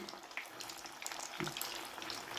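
Grated raw potato snacks fry in hot oil over medium heat, giving a soft, fairly faint crackling sizzle with scattered pops throughout.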